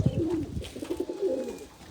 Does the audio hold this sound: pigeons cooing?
yes